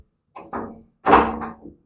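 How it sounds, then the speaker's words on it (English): A sliding door in a room at the Hilton Richardson Dallas hotel gives a few short rolling thuds and knocks, with a heavier bump near the middle, close by and otherwise quiet. "Sliding door."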